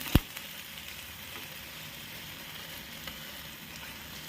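Cheese fries in oil in a pan with a quiet, steady sizzle and one sharp clack near the start.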